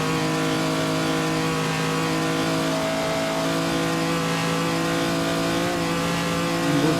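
A 1949 race car in the Assetto Corsa racing game on the Noris-Ring circuit, its engine droning in a steady sustained rasp at near-constant revs for the whole stretch, with a slight pitch shift toward the end.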